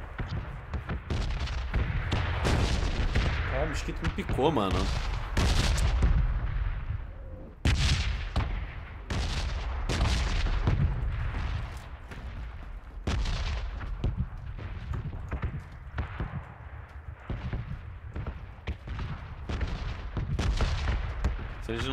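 Gunshots in the battle royale video game PUBG Battlegrounds, a steady run of sharp shots and bursts through most of the stretch, fairly loud, with someone talking over them now and then.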